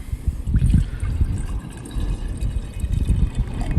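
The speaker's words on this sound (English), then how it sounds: "we're going to pour about half a cup of vinegar into another cup" Vinegar poured from a container into a cup, a short close splashing and trickling of liquid lasting a few seconds, with no voices.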